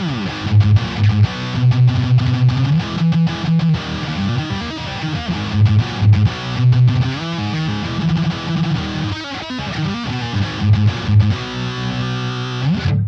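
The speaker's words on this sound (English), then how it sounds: "Now here with the distorted tones, let's try bias all the way to the left so you can hear that." Electric guitar played through a $39 distortion pedal with its bias set fully left, loud crunchy distorted riffs with sustained chords and choppy palm-muted notes, close and continuous.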